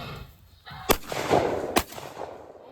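A 25-pound load of Tannerite set off outdoors on the Fourth of July, with two sharp, loud blasts about a second apart that ring out and decay into the open air.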